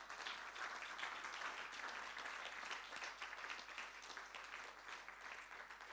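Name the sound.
church congregation applauding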